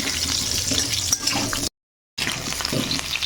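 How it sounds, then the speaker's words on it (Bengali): Steady hiss and crackle of potatoes frying in hot oil, broken by a short gap of silence midway. "তো আলুগুলো একটু বেশ লাল লাল করে ভেজে নেব"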